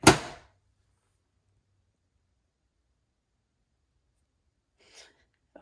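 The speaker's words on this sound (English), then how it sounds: "Maybe I should shut the door." A door is shut once near a robot vacuum and mop's base at home, a single loud close thud at the start followed by near silence, with a faint brief knock later.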